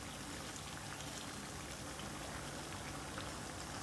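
Samosas or similar snacks frying slowly in oil on low heat, a soft continuous bubbling crackle like light rain, even and faint throughout.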